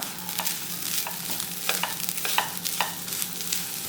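Grated coconut with half a teaspoon of cardamom powder and a pinch of salt is stirred in a pan for a Kerala snack; a spoon scrapes and clicks against the pan in irregular strokes over a low, steady sizzle, with no voices.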